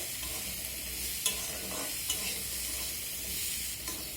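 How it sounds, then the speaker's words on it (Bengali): Fried potatoes and tomatoes with red chilli powder and spices are stirred in a pan, a soft steady sizzle broken by a few sharp spatula scrapes and knocks. "এই মশলাগুলো দেওয়ার পর আবারও আমি আলু আর টমেটোটা নেড়ে চেড়ে নেব"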